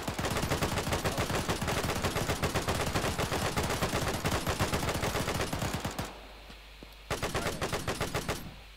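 Loud, rapid automatic gunfire in a multiplayer war video game, with dense bursts of machine-gun shots that briefly stop before firing resumes.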